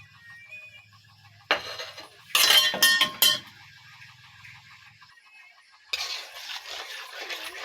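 Milk and sugar being stirred in a pot for sandesh, heard as brief bursts of metal spoon scraping and clinking against the pot with quiet pauses between.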